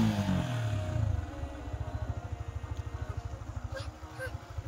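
A newly bought motorcycle engine idling with a steady, rapid low thumping pulse, close by and moderately loud, after a brief burst of louder noise at the start.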